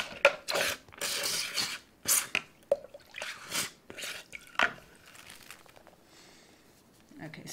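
Water dripping and splashing onto nuno felt fabric, likely a silk hankie layered with wool, in short wet squishing and crinkling bursts, with a person talking between them.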